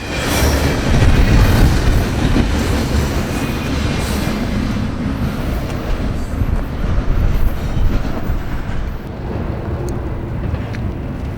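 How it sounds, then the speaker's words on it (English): Norfolk Southern 211, a priority intermodal freight train, passes on the Lehigh line with a loud, close rolling roar, wheels clicking over rail joints and faint squeals as the cars stream by, easing slightly toward the end. "NS 211 is a priority intermodal train, bringing mail from the New York City area to Atlanta."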